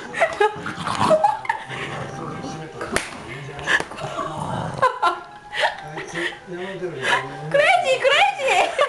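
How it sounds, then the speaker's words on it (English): A dog plays energetically indoors with a rope toy, giving quick huffs, snorts and playful sounds close by, mixed with excited talking and laughter from people. "My dog playing."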